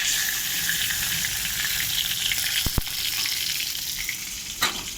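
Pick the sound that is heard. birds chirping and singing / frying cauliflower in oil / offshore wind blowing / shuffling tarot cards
frying cauliflower in oil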